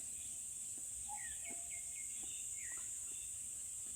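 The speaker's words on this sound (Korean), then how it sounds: "새들 소리 너무 이쁘다." Several birds chirp and trill in short, high bright calls over outdoor insect or cricket ambience, near an old tree in a quiet natural setting, with a steady high drone running underneath.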